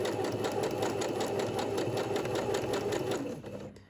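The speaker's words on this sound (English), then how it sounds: "So I'm going to do some stitching using zigzag." A sewing machine runs a zigzag stitch along a fabric edge, a loud, fast, even mechanical chatter that runs nonstop and then slows to a stop at the end.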